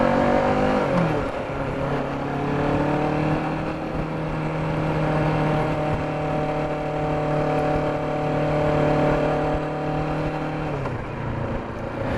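An Amazon delivery truck drives past on a road, a loud engine drone with rising and falling whine lasting several seconds, heard close over steady road and wind noise.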